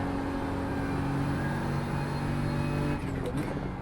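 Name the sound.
Ferrari GT3 race car engine in iRacing video game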